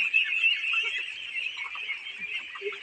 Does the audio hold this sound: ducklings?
yes